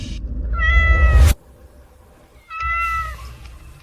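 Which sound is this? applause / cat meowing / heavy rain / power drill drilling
cat meowing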